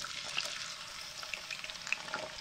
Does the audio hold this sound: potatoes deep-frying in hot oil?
yes